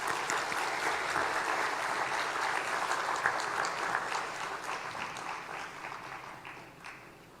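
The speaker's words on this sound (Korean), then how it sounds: "우리 나오실 때 뜨겁게 박수로 맞이하겠습니다" A church congregation gives warm applause to welcome a pastor coming forward to preach. The clapping is full and even, then slowly fades toward the end.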